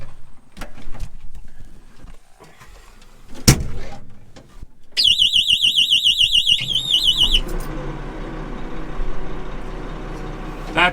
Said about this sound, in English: That's low oil pressure alarm.